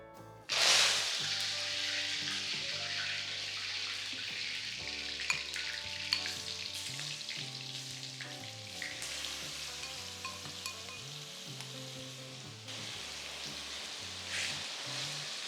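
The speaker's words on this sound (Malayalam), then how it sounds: "എണ്ണ നന്നായിട്ട് ചൂടാകുമ്പോൾ നമുക്കതിലേക്ക് ചിക്കനും ഇച്ചിരി കറിവേപ്പിലയും കൂടെ ചേർക്കാം." Chicken and curry leaves drop into hot coconut oil in a pan with a loud initial burst, then a dense, steady crackling sizzle continues close and unbroken, with no voices.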